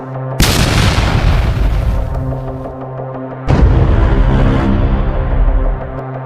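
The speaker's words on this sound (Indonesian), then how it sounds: "Yang Ji Ho terkena telak ledakan skill milik Kim Ho Jin." Two loud booming explosions, one right after the other, each bursting suddenly and then rumbling out in a long, fading roar.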